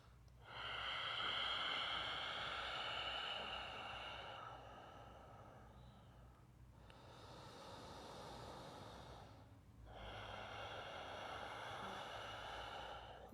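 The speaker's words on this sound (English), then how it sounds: "Ujjayi pranayama, deep nostril breathing." Slow, deep ujjayi nostril breathing during a yoga session, long airy breaths with a soft hiss, three extended breaths separated by brief pauses, close and steady with no talking.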